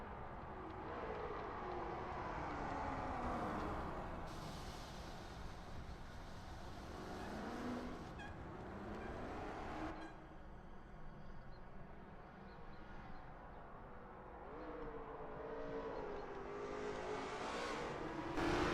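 Lola T70 MkII Spyder race car on a practice out lap at Brands Hatch GP in a racing video game, its engine droning steadily with rising and falling revs and gear changes throughout, loud and close.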